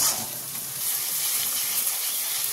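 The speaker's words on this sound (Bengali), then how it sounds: "মশলাটাকে বেশ ভালোভাবে কষিয়ে নিতে হবে।" Masala and tomatoes for egg curry fry in hot oil, giving a steady, close, bright sizzle with faint stirring and no talking.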